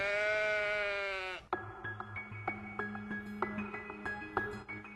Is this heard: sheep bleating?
yes